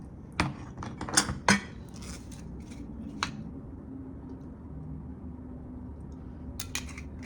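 Garlic, lemon and olive oil mixed in a bowl, giving a few clattering utensil-on-dish knocks and scrapes early on, then quieter faint stirring against a low steady background hum.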